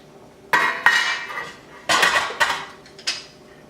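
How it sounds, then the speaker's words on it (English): Spoon stirring meatball vegetable soup in a pot, with several sharp metallic clinks and scrapes against the pot in irregular bursts, fairly close and loud, no talking. "Stir it around"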